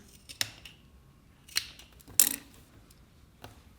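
Sewing scissors snip small slits into fabric near a sewn neckline, four or five short sharp cuts spaced irregularly and heard close up in a quiet room.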